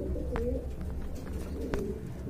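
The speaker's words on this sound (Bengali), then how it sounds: "এক জোড়া কাগজি কবুতর দেখতে পাচ্ছেন" A pair of kagoji pigeons coo steadily, a low, continuous murmur close by with faint higher calls over it.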